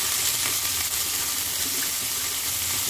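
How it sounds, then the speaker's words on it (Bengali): Carrots, capsicum, cauliflower and cabbage with a little salt hiss and sizzle steadily in a hot wok for chicken chowmein, a dense, even frying noise with no talk. "আমি সব সবজিগুলো একসাথে দিয়ে দিলাম কড়াইয়ে এবং দিয়ে দিলাম একটু নুন"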